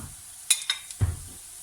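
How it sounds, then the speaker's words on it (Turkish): Eggs with a pinch of salt being whisked in a bowl, a few quick faint clinks and scrapes of utensil against the dish followed by a soft low swirl, short and quiet. "Yumurtamıza da birazcık tuz ekledim. Şöyle çırpalım."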